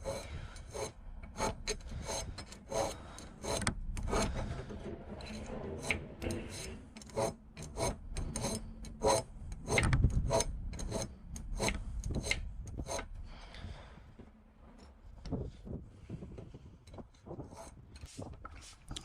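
Hand file rasping rust off the edge of a steel auger bit during sharpening, a steady run of close, scratchy strokes in uneven rhythm, some louder and harsher, with no talking.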